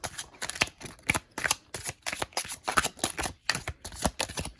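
Rapid crisp riffling bursts of tarot cards being shuffled, repeated about a dozen times in quick succession, close and fairly loud with no talking.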